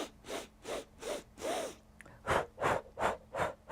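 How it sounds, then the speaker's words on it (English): Sharp, rhythmic sniffs in through the nose during a breathing exercise, done while holding the body up. About nine close, even bursts come one after another, with a short pause in the middle. "We go lift and we go sniff."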